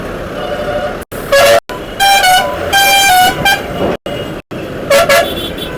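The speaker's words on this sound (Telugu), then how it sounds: "చూడండి ఎన్ని టిప్పర్లు వస్తున్నాయో." Tipper trucks honking repeatedly amid heavy road traffic on a new road under construction to Sangareddy, with several loud, sustained horn blasts, some overlapping, over a steady rumble of passing vehicles.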